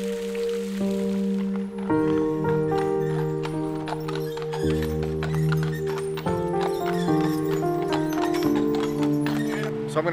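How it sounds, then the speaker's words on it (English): Hooves from a horse-drawn carriage clip-clop at an even pace on the streets of Savannah, Georgia, under sustained musical tones that run throughout. "you see the little horse and carriages going around"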